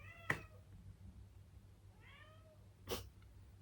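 Two soft cat meows, one early and one a bit later, faint and distant over a low hum, with sharp clicks between.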